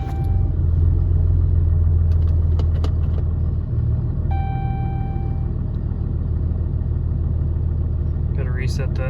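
A third-generation Camaro starts up and idles right after an oil change, a steady loud low rumble that holds close by throughout, with a brief higher whine near the start and some background noise toward the end.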